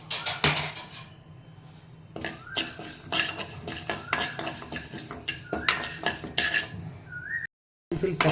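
Mustard seeds for Guntur-style pickle frying in oil in a pan, with close clinks and scrapes of a metal spoon stirring against the pan over a soft background sizzle.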